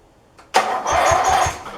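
A small engine cranks after a faint click during a spark plug test with a plug tester, carb cleaner at hand. It bursts in loud and close, then turns over in a steady rhythmic churn that rises and keeps going to the end.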